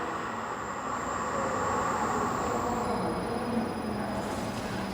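A Supertec 1640V heavy-duty gap bed engine lathe runs at low speed, giving a steady, even mechanical hum with a faint high whine, close and unbroken, with no talk.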